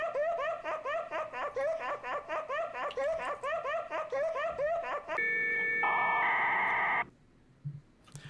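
A ghostly laughter effect from the horror game I'm On Observation Duty cackles in a loud rhythmic run of giggles, then gives way to a sustained electronic tone that cuts off abruptly into near silence.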